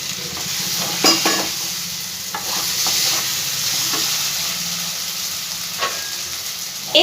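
Potatoes are stirred into a well-fried spice masala in a pan, giving a close, steady sizzle with scraping strokes of a spoon and occasional louder clacks, and no voices.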